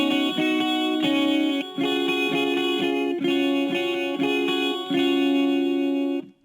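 Electric guitar plays the intro riff of a song, a chiming, effect-laden line with open strings ringing and repeated picked phrases, close and alone.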